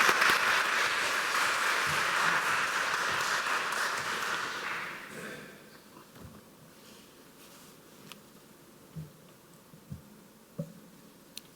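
An audience applauds to welcome a guest speaker at a lecture. The clapping is steady and full for about five seconds, then fades to a quiet room with a few small knocks and shuffles.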